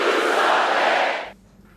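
A large rally crowd cheering for Michelle Obama's speech, a loud dense roar of shouting and applause that fades out abruptly after about a second.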